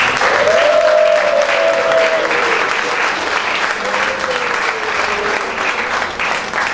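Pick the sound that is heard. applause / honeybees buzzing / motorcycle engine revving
applause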